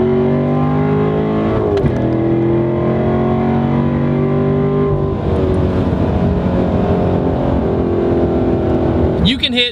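Corvette C7 Stingray engine accelerating hard in first gear, a loud sustained rising drone with a gear-like dip near two seconds and another near five, heard from inside the car, ending with a short rattle.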